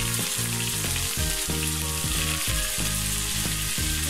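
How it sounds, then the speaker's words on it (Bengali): Capsicum sizzles steadily in hot oil while being fried for an oven-baked chicken cheese pasta, a loud continuous crackle with soft stirring scrapes, no talking. "এর মধ্যে আমি ক্যাপসিকাম দিয়ে দিচ্ছি।"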